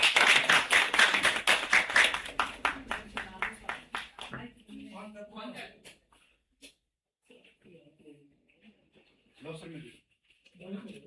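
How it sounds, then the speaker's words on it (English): Audience applause at a university faculty development programme event for a nursing school coordinator, loud dense clapping for about four seconds that quickly fades out, followed by quiet talk and small scattered noises. "A huge round of applause for her."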